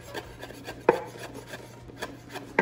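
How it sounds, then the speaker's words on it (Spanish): Parsley being finely chopped with a kitchen knife on a board, a string of soft, irregular taps and scrapes with a few sharper knocks, close and quiet with no voices. "ahora aquí estoy cortando el perejil bien finito"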